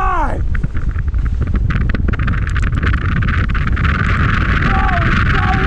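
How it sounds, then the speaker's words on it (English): Strong wind buffets the microphone continuously at a mountain bike trail in Bootleg Canyon, Las Vegas, a loud broadband roar throughout with brief rustles and a short whistling tone near the end. "Oh, it's so windy."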